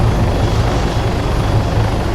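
A helicopter flying in Arma 3, a steady, loud, close rotor chop with a dense engine roar that fills the whole stretch and never lets up.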